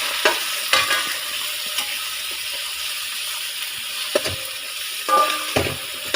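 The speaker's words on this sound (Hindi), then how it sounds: "मैं ऐड करूँगा चिकन। ये है भाई चिकन, इसे कुछ अच्छी तरह पकने देता हूँ" Chicken frying in a pan and being stirred, with a steady sizzle broken by several sharp scraping strokes from the utensil, close and clear with no talking.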